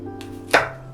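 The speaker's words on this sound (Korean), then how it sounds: "이제 파를 썰어 볼게요." A knife chops green onions for a summer cucumber kimchi, one sharp, close cut landing midway against a steady low hum, with no talk.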